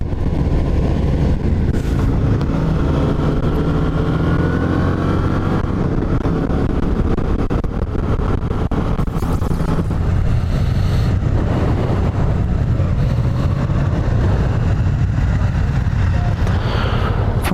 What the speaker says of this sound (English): This is the V-Strom 650 with tubeless tires.